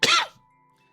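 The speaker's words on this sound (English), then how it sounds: "Just got a little cough." A single short, sharp cough from someone slightly ill, close and loud, followed by near silence with a faint steady hum.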